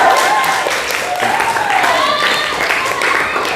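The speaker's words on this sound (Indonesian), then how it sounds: "Kasih aplaus dong." A room of school students claps in dense, steady applause that holds throughout, with voices mingling in the background.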